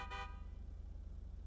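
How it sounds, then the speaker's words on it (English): A short car horn toot sounds in the game GTA V during NoPixel roleplay, a single brief honk over a low engine drone, fairly faint. "Honk your horn."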